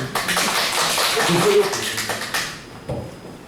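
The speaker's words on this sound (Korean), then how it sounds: "박수 한번 해주세요." Audience clapping together on cue during a Korean church theology lecture, a short burst of applause under ongoing voices that fades out after a few seconds.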